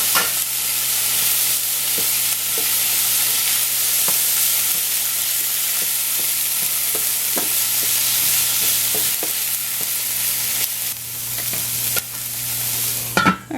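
Chopped ham and vegetables sizzle steadily in a frying pan, with a continuous loud crackle and occasional scrapes of stirring throughout and no talk.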